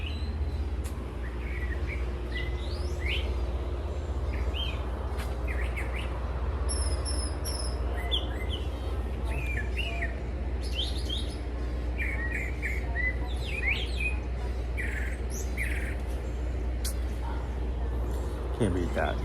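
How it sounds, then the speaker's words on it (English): Birds chirp and tweet in scattered bright calls through a quiet early morning at Magic Kingdom, some near and some farther off, over a steady low background rumble. "Hear the birds."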